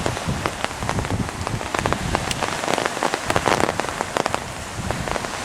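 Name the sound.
rain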